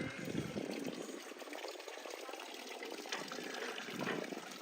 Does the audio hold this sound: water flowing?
yes